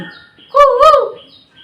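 A person briefly imitates a koel's call with a single rising, two-part hooting cry, loud and close.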